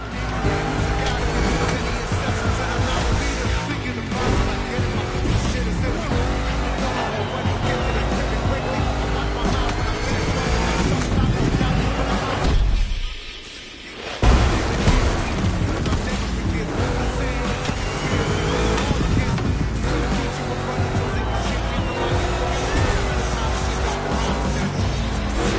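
A racing car in The Crew Motorfest, apparently a Mustang GT in a two-lap race, roars steadily and loudly throughout, with a brief dip in the sound near the middle before the engine surges back.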